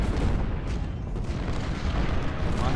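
Continuous dense roar of massed artillery and musket fire from a Civil War battle in the Ultimate General: Civil War strategy game, heavy and rumbling throughout with no clear gaps between shots.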